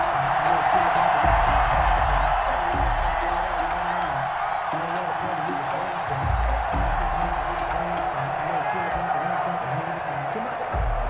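Dense, steady roar of a football stadium crowd before a Washington vs Chicago Bears game, loud and continuous with scattered whoops and cheers rising from the mass of voices.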